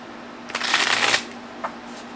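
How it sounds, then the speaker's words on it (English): A deck of cards is shuffled once in a loud, close riffling burst lasting about half a second, followed by a single short card snap. "So we're going to make sure they get mixed up good and true"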